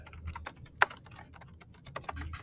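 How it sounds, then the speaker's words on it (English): Keys tapped on a computer keyboard while entering assignment instructions for a class, a quick irregular run of clicks close up with one sharper keystroke standing out. "I'm going to type some instructions"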